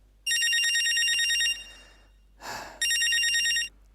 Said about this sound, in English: His phone rings and he answers it on loudspeaker.